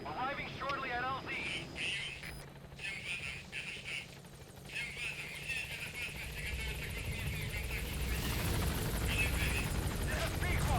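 The Pequod helicopter from Metal Gear Solid V: The Phantom Pain approaches the landing zone, its rotor chop rising from faint to loud and close. Radio voices and game effects are heard at the start.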